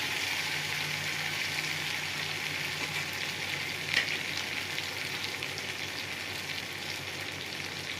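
Tomato masala fries in a pan as spices are added, giving a steady, fairly quiet hiss and crackle throughout, with one brief louder spatter midway and no voices.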